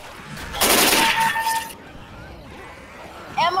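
Automatic gunfire in the Left 4 Dead video game: one loud, rapid burst lasting about a second, followed by quieter game ambience and a brief high electronic chirp at the end.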